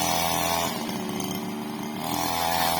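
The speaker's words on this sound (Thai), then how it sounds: "ตัดหญ้าบริเวณหน้าห้องน้ำครับ" A grass trimmer cuts grass by a temple bathroom, its motor a loud, steady whine that dips briefly mid-way under load before rising again, with no talk.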